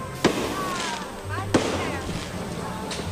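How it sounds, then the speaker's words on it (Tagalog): Two sharp firework bangs go off about a second apart amid a constant hiss, with faint whistling tones between them, at a Christmas fireworks display at the Enchanted Kingdom theme park. "At syempre, ang fireworks display."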